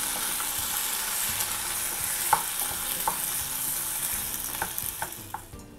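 Chopped tomatoes sauté in hot oil in a pan for a Tamil tomato chutney, a steady sizzle throughout, broken by scraping stirring strokes and small clacks of the spoon against the pan, close up with no talking.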